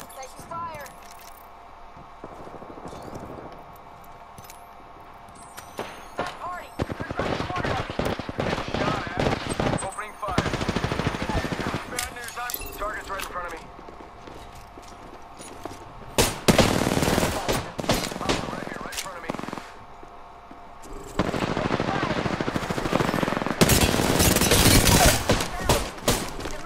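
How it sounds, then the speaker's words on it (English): Rapid automatic gunfire in the Apex battle royale game comes in long, loud bursts separated by quieter gaps, with game voice lines spoken over the shooting. "Taking fire."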